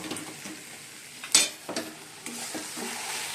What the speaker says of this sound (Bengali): আর এদিকে চিকেন কষা হচ্ছে, আলুগুলো দিয়ে দিলাম।